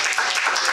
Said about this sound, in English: let's give him a good round of applause.